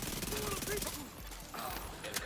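A Vector SMG firing in the video game The Division 2: rapid continuous automatic bursts with a brief pause midway, loud and close, with a voice talking over the gunfire.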